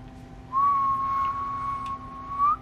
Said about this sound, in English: And if somebody can whistle, then we do this,